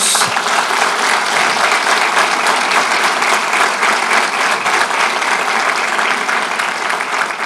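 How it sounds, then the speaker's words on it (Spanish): Loud, sustained applause from a church congregation during a sermon, an even wall of clapping with no voices over it. "Dale un fuerte aplauso a Jesús"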